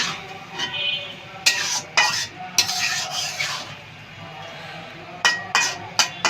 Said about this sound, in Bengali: এখন আমি আগে এটা সুন্দর করে ডালের সাথে বাঁধাকপিটা ভাজা নিই।